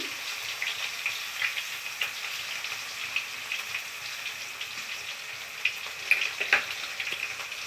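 Chopped tomato and salt fry quietly in a pan, giving a fine, crackling sizzle with a few louder pops and light stirring near the end; no speech.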